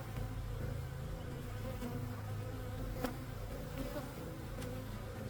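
Honey bees buzz steadily and closely throughout a mid-spring beehive inspection, a dense continuous hum with a few brief clicks and knocks from the hive work, no talking.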